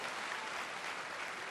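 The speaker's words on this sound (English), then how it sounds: "Please give our panelists a round of applause." Convention crowd applauding panelists after a StarCraft 2 multiplayer panel at BlizzCon 2011, a dense, even roar of clapping from a large hall, heard from a distance.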